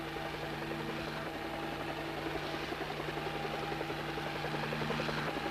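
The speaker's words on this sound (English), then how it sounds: "What makes you so jumpy every time you hear a chopper?" A helicopter in flight gives a continuous, steady droning rotor and engine hum with a faint rhythmic thrum, holding an even level throughout with no voices.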